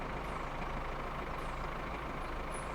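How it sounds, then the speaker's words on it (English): A car engine idles steadily in My Summer Car, a constant low rumble that stays even and close with no breaks. "I'll turn the engine off so you don't have to listen to it."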